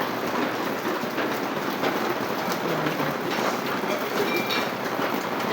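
Continuous light rain falling outside a house, a steady even hiss of drops on surfaces with no pauses, fairly soft and unbroken from start to finish.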